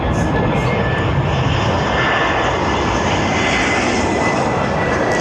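A Vueling airliner on arrival to runway 24R at Barcelona airport roars loud and steady throughout, its broad engine noise close and continuous with no break.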